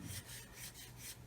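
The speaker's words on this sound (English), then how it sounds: "the sanding stick just to get rid of the sprue nibs, really" Sanding stick rubbing across plastic sprue nibs on a 1/144 Roden C-141B Starlifter model engine, a soft steady rasping in repeated strokes, close and quiet with no talk.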